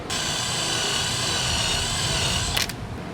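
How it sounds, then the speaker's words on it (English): A drill spins a wire wheel against lightly rusted metal, a steady high abrasive whir held for a couple of seconds before it stops abruptly. "For this, I'm going to use a wire wheel and my drill."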